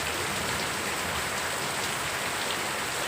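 Heavy village rain falls hard and without a break over a waterlogged farm field, a loud, continuous hiss of drops on wet ground with nobody speaking.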